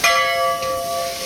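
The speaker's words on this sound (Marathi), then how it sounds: "मस्त वाजला घंटा बघ." A metal bell at a Ganesh temple on the Ashtavinayak circuit rings once with a bright clang, its tone sustaining and slowly fading, close and fairly loud.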